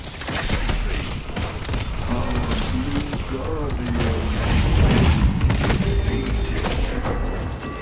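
Frantic gunfire rattles in dense bursts in Valve's hero shooter Deadlock, mixed with thuds and booms from combat abilities and a few voices underneath, loud and continuous.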